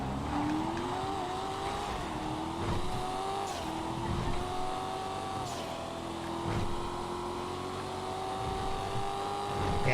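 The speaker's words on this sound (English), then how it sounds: "This is a proper sports classics car." A sports classic car in the GTA 5 racing game revs hard and loud through repeated gear changes. The engine pitch climbs and drops in a continuous drone with no talking.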